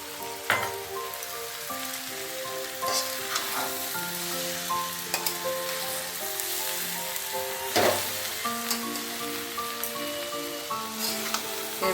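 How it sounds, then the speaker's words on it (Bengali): Foxtail millet rice for vegetarian khichuri sautés in a pan, with a steady close sizzle, dry crackling and periodic scraping stirs of a spoon, moderately loud, no voices. "এইভাবে এখন কষাবো।"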